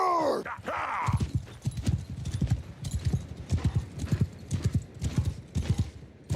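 Horses galloping in the Old Realms mod game, with loud close rhythmic hoofbeats pounding in quick bursts after a brief whinny-like cry at the start.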